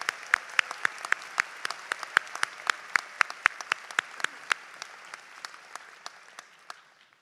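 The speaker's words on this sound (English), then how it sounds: "Please give them a warm round of applause." A commencement audience at Brooklyn Law School applauds a quartet with a thin, scattered clapping. Individual claps stand out in an uneven rhythm and fade out toward the end, with no talking.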